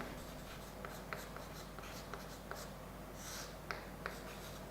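Chalk or marker writing on a board during a physics lecture on capacitors, faint scratchy taps and strokes in an irregular rhythm over a quiet room.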